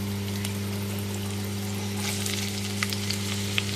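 Onion and capsicum fry in a pan with a steady, close sizzle over a constant low electrical hum, with occasional brief crackles and pops standing out toward the end and no voices.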